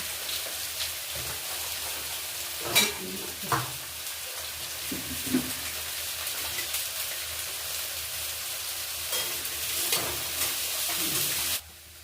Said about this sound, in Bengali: নুন হলুদ দিয়ে আলুগুলো ভেজে রাখবো